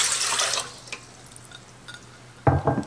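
Warm water poured into a bread machine pan for a sandwich loaf, a brief hissing splash at first, then scattered drips, then a second short gush close by.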